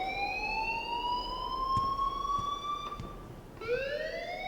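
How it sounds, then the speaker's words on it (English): A fire alarm in the video game Life is Strange wails in a steady rising electronic tone, cuts out briefly, then starts again, loud and close with no talking. "please turn off that alarm since that's your job"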